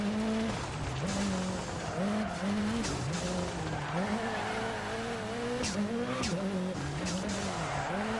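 A Peugeot race car in a video game drives with a steady, droning engine whose pitch rises and falls with gear changes, while tires squeal and skid throughout, loud and continuous.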